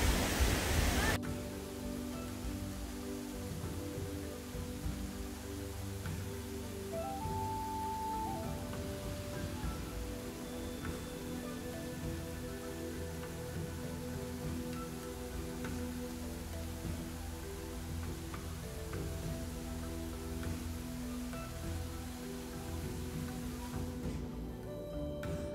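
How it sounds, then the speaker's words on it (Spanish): Steady, continuous roar of water from a waterfall about 30 metres high at Roboré, Bolivia, falling into a natural pool, heard close and unbroken with a faint hum beneath. "Este chorrito tiene una altura de aproximadamente 30 metros y justo donde cae el chorro tiene una profundidad de 15 metros"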